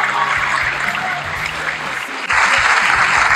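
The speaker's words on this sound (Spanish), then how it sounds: "También otro aplauso muy cariñoso para otra mujer maravillosa que me tiene mucha paciencia" Sustained applause from an audience at a women's event, a dense, continuous roar of clapping that swells louder partway through and holds steady with no speech.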